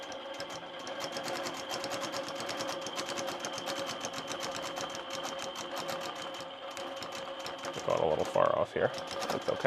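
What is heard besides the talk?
sewing machine quilting with templates and rulers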